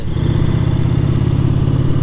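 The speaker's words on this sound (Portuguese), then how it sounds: "o que é que acontece quando a moto rola em grupo?" A group of motorcycles rides together with a loud, steady engine drone and rumble, close by, with no voices.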